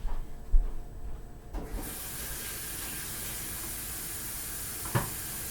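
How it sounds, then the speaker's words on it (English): Water runs from a kitchen sink tap while hands are washed during home cake decorating. A few soft knocks and clatters come first, then a steady hiss of flowing water continues, with a brief bump near the end. "let me wash my hands"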